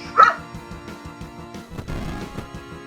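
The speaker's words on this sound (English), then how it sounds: "that's her growling, because she's being a bit of a bitch" Monster growling in the video game Soda Dungeon 2: a short, low, snarling creature cry near the start, followed by steady game sound effects and music.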